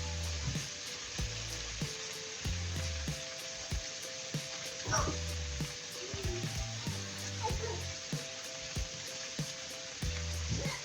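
Red onion and shiitake mushrooms sizzle steadily in a pan, a continuous close frying hiss with occasional stirring scrapes and no voices.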